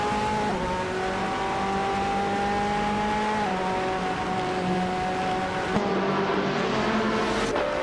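Racing car engines in a video game, led by a 2017 Mazda RT24-P at Daimler Teststrecke, drone steadily in a loud sustained whine, the pitch holding level and then stepping down with gear shifts.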